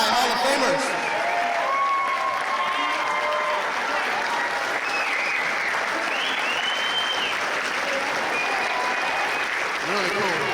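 A crowd at the Carson High Hall of Fame show applauds its newest inductees, loud sustained clapping and cheering at an even level throughout, with whistles and shouts rising over it.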